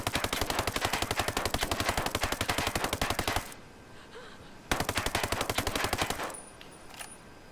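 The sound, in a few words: suppressed 416 Shorty rifle firing full auto, Ghost Recon Breakpoint video game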